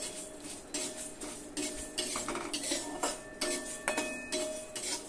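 Cumin seeds and panch phoron being dry-roasted and stirred continuously in a pan for a sweet-sour mango pickle, giving close, steady metallic scraping and light clinks of a spoon against the pan.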